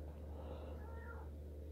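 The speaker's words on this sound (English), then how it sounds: "Marty the cat." A soft, fairly quiet meow from Marty the cat rises and fades within about a second, set against a constant low background drone.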